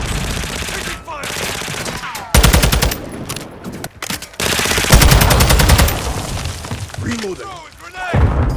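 Enemy automatic gunfire in Call of Duty: Modern Warfare II, loud bursts of rapid rattling shots in several volleys, mixed with impacts and crashes while voices call out over the firefight.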